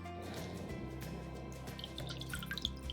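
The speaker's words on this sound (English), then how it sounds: "pull it back out to drip" Dye-soaked fabric drips after dip-dyeing, with faint irregular drops pattering into liquid over quiet background music.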